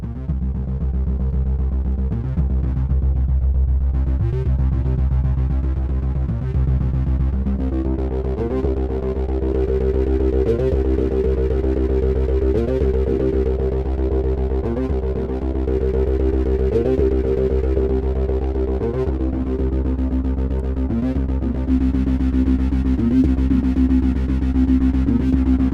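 A synth filter self-oscillating at high drive and high resonance, producing a dense, continuous throbbing tone with shifting harmonic sweeps and a heavy low end, loud and unbroken throughout.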